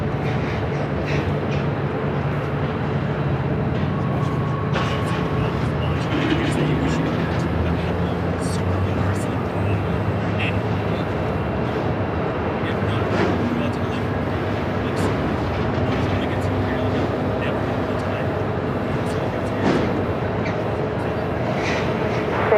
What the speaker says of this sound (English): Looks like our next arrival here on the north side is a flight coming from Dallas Fort Worth, Texas.